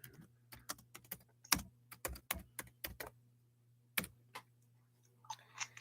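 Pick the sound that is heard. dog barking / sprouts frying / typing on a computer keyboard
typing on a computer keyboard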